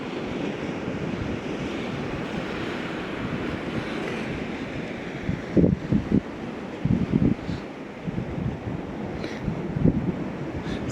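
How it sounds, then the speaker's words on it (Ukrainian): Stormy sea waves and gusting wind at a harbour in Italy on a grey day, a steady broadband roar of surf and wind buffeting the microphone, with a few sharper splashes or knocks partway through. "Так штормить море."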